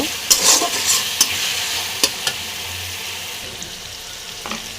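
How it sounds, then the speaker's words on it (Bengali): Lightly fried onion with garlic and ginger paste being stirred in a hot pan, with a soft sizzle underneath and several sharp spoon scrapes and clinks at irregular intervals, close by. "এর ভিতরে এবার দিয়ে দেবো রসুন বাটা আদা বাটা এটাকে আমি ভালোভাবে কষিয়ে নেব"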